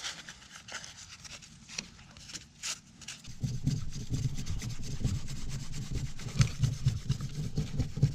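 Chainsaw ports on an Echo 490 being cut and polished by hand, a close, quiet scraping rasp, faint and intermittent at first, then a steadier louder grinding rub for the rest of the clip.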